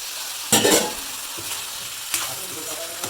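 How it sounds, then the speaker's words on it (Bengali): Eggplant curry with dried ribbonfish sautés in a pan, an even sizzle broken by a few sharp spatula scrapes and stirs, close by with no voices. "তারপর আরও চার পাঁচ মিনিট কষিয়ে নিতে হবে ভালোভাবে"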